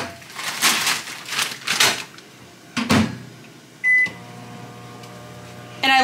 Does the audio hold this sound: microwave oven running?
yes